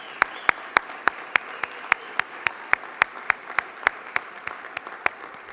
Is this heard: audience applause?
yes